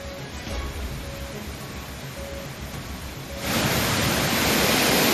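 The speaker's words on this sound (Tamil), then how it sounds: "திருப்பரப்பு அருவியில் வெள்ளப்பெருக்கானது ஏற்பட்டிருக்கிறது." A flooded Thirparappu waterfall in Kanyakumari district roars as a steady, dense rush of water that swells noticeably louder partway through and holds at a full, continuous roar.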